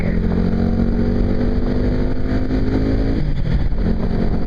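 A Yamaha WR250R dual-sport motorcycle being ridden, engine droning loud and steady throughout with a slight shift in pitch near the end, close and unbroken.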